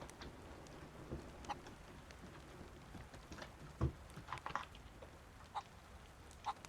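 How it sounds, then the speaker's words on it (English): Full rain falls in a zombie survival video game on the Zenocide server, a steady soft hiss throughout with scattered sharp ticks and a louder thump near the middle. "Yeah, it sounds like full on rain."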